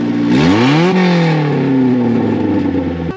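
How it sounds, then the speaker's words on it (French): A second-generation Honda Prelude engine with a holed exhaust revs up hard, climbs to a peak, then settles into a rough, raspy drone, loud and close with no talking. "Maintenant, on va passer au bruit de la voiture."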